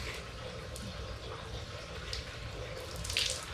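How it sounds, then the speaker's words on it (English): Soft, steady hiss of water from a garden hose gently spraying radish microgreens throughout, fairly quiet and continuous, with a brief brighter splash near the end. "I brought my hose and I'm going to give it a little spray of water"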